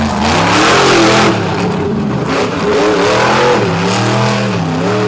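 A monster truck engine roars and revs hard on a beach track during a monster truck show, loud and close, with rising and falling pitch as the throttle works, while a handicapped truck pushes on.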